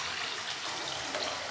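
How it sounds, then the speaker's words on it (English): Cold water pours from a tap into a small pan holding eggs, a steady close splashing rush, fairly quiet, with no voices over it. "add enough water, cold water, to cover them"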